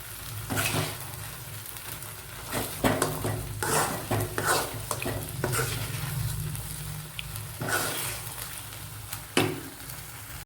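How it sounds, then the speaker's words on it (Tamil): Chicken 65 frying and crackling in hot oil, with occasional stirring clinks of a utensil against the pan, continuous and close. "வாங்க அடுத்து சிக்ஸ்டி ஃபைவ் பொறிக்க போகலாம்"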